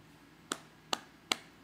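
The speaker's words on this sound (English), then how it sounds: "That was the sound of me patting my belly." Three soft, hollow slaps spaced evenly apart, a hand patting a belly close by, with a faint low hum between them.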